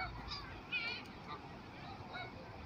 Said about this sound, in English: These birds are totally awesome.